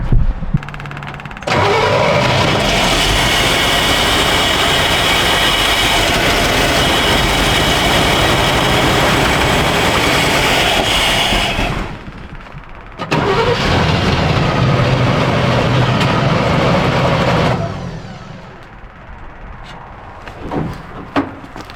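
An old Chevy truck engine, kept in one family for decades and getting fuel to the carburetor, roars loudly for about ten seconds, cuts out, restarts and runs a few more seconds before stalling into quiet.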